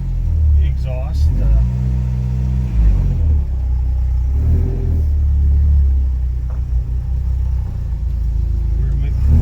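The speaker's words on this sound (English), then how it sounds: "Oh, I think that's the exhaust." A 1988 Jeep YJ, abandoned for years, runs with its engine rumbling through the exhaust, a steady low drone lasting throughout, with voices talking over it.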